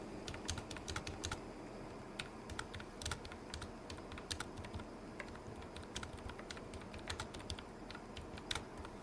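Someone types on a computer keyboard during an amateur radio contact, with crisp individual keystrokes in uneven bursts, close and fairly quiet, over a low background hum and no talking.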